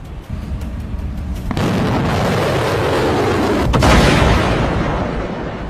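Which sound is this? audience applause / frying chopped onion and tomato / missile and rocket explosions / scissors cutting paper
missile and rocket explosions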